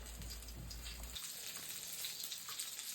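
Jamaican saltfish fritters frying in oil, a steady, soft, close sizzle with faint crackling pops, and a low hum that cuts out partway through, with no speech.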